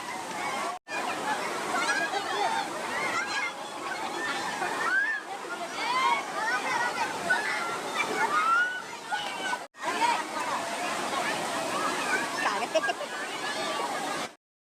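Kempty Falls near Mussoorie, Uttarakhand, pours down as a loud, continuous broadband roar of rushing and splashing water, close and nearly unbroken, with faint voices of visitors mixed into the wash.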